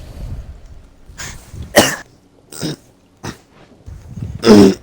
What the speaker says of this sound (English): a very violent sneeze